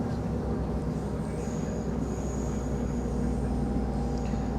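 A train pulling into Sheffield from Chesterfield fills the space with a continuous, fairly loud rumble and a faint high whine drifting over it, with no speech.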